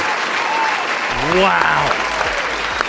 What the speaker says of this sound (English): Let's get a round of applause for Red Sick Boy